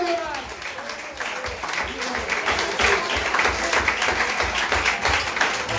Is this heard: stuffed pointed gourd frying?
no